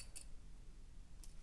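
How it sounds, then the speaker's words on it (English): Scissors cut a fabric bag strap down the middle, two quiet, crisp snips over a second apart in a hushed room. "we're going to cut it right down the middle on the 3-inch line"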